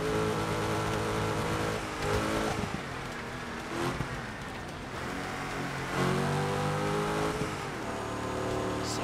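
Engine of an off-road rally vehicle in the Dakar Desert Rally video game, driving steadily with a continuous droning hum that rises and falls in pitch as it revs, loud and close throughout with no talk.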